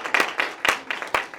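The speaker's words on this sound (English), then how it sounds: "A big round of applause." Short burst of audience applause after a drug court graduation speech, a quick scatter of claps from a modest crowd, fairly close and alone without talk.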